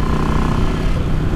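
Close and loud, a Yamaha XVS650 V-twin motorcycle fitted with a Dynatek ignition pulls hard at high revs, its gritty roar easing slightly toward the end, with no talking.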